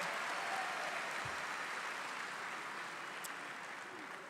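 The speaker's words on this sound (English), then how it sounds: "Graduates, let's give them another round of applause" A crowd at a university spring commencement ceremony gives a round of applause, a soft, distant, even wash of many hands clapping that tapers slightly toward the end.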